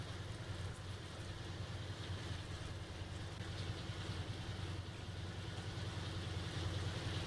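Simulated M4A3E8 Sherman "Easy 8" tank engine from Tank Mechanic Simulator, a steady low rumbling drone that runs unbroken and fairly loud throughout, with no speech over it.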